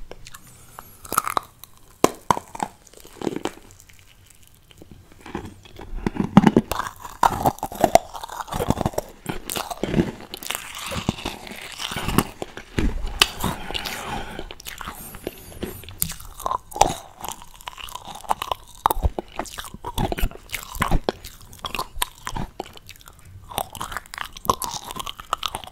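Close, crisp crunching and biting on a marshmallow unicorn candy, repeated chews and bites spread steadily through the stretch with no talk over them.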